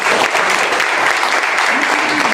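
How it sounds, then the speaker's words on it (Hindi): Loud, steady applause from a large crowd at a company business meeting in India, continuous clapping filling the whole stretch without a break. "मेरा दोस्त मुकेश शर्मा जी के लिए मैं एक बार ताली चाहूंगा जोरदार"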